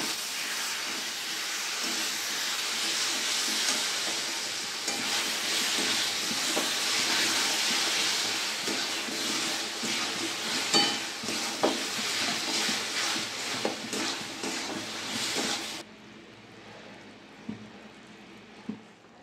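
Green mango pickle with jaggery is stirred in a hot pan, a steady close hiss and sizzle with soft scraping strokes that cuts off abruptly near the end, leaving faint background clatter.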